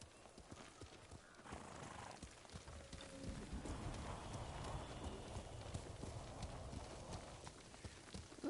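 A horse in the video game Ghost of Tsushima clip-clops along steadily, its hoofbeats faint and low under a background bed, with a brief whinny-like tone partway through.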